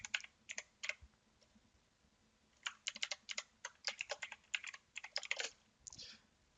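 Quick, crisp keystrokes on a computer keyboard as C++ code is typed, coming in short bursts of taps, with a pause after the first second before a longer run of steady typing continues close up.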